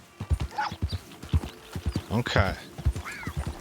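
Hoofbeats clip-clop in an uneven rhythm from a horse in Red Dead Redemption 2, with a bright whinny rising in the middle, while someone speaks briefly over the sounds.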